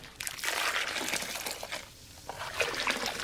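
Cold water is sloshed and moved around in a container on top of a barrel still, making irregular splashing and trickling surges at close range.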